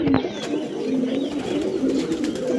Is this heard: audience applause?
no